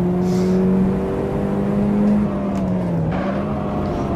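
Golf GTI 16V engine pulling hard in a hillclimb racing game played on an Oculus Rift VR headset, a steady rising drone with shifting gear tones, loud and close throughout with no talk.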